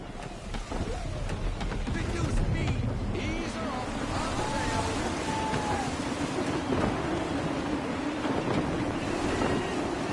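At sea in the Assassin's Creed III video game, constant gusty wind roars and waves surge and wash around a ship, loud and close throughout, with voices speaking over it.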